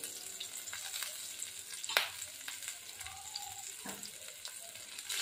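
Chopped ginger fries in a pan for a potato filling, giving a close, moderate sizzle with scattered crackles and a sharp scrape or tap near the middle, without speech.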